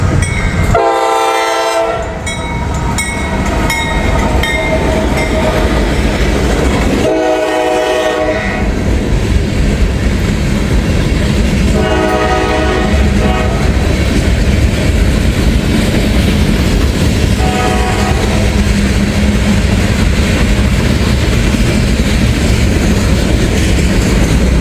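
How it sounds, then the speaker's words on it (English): A freight train with distributed power units rumbles past trackside in hot, humid weather, a steady loud roar of rolling cars with several blasts of the horn sounding at intervals over the continuous rail noise. "DPU coming through, man."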